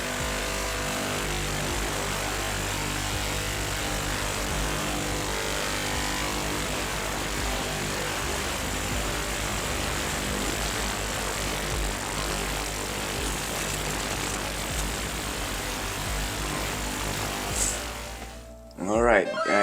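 Ultrasonic cleaner running with gold jewelry inside, a steady loud broadband hum and hiss that holds constant close by, then cuts off near the end with a brief clatter.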